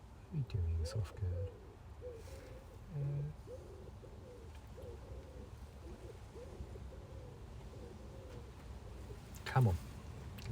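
A pet bird coos in soft, low, rounded notes, a run of repeated hoots through the first part, close but fairly quiet, with faint room noise behind.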